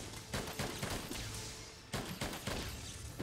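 Cannon fire in the video game Monster Hunter World: a rapid burst of loud booming blasts, then a brief lull and a second salvo, dense and continuous, with no talking over it.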